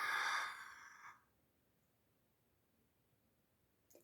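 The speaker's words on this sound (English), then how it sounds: "Breathe in and out." A deep breath drawn in close to the listener, a loud rushing inhale lasting about a second that fades into near silence, with a faint click near the end.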